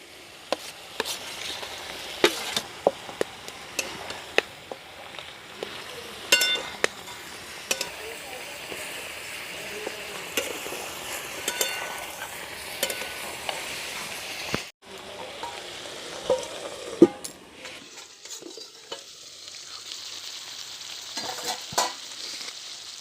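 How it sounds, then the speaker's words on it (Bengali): Chicken curry fries in a pan while cooked masala is stirred in, a low crackling sizzle broken by sharp clicks and scrapes of a spatula against the pot, with brief speech at times. "কষিয়ে রাখা মশলাটা দিয়ে দেবো"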